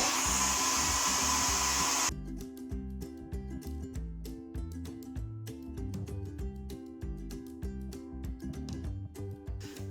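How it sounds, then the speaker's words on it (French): A hair dryer blows loudly on a wig for about two seconds with a close, steady rush of air, then cuts off as rhythmic music takes over. "Un sèche-cheveux comme ça."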